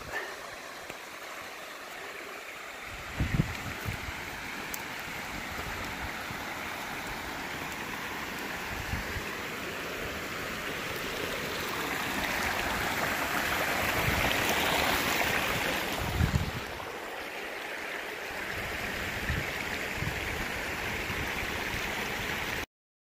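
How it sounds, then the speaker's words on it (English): Mountain stream on the Appalachian Trail flowing steadily, a broad continuous rush of water close by with occasional brief splashes and thumps, no voices. "this is one of the streams coming off the mountain"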